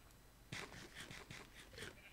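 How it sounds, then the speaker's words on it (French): A Minecraft-style sheep spawned up in a tree bleats several times in a short run of wavering calls, moderately close, with a faint game backdrop underneath. "c'est un mouton qui a spawn directement dans l'arbre"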